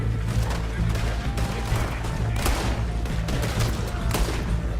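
Gunfire rings out in Red Dead Redemption 2, a rapid, loud series of shots layered over a busy rumble of game action, with sharp cracks recurring throughout.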